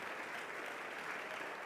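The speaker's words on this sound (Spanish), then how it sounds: "démosle un aplauso al Señor" A church congregation claps together during a Spanish-language sermon, giving a steady, dense wash of applause that fills the space evenly from start to finish with no voices standing out.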